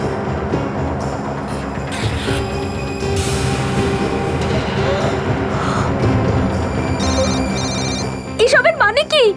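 A telephone rings in a tense scene, its repeated trilling bursts loud and close near the end, over a dense background din and murmuring voices.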